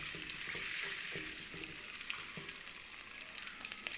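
Ginger garlic paste fries in plenty of oil for a beef karahi, giving a steady close sizzle with occasional stirring scrapes throughout.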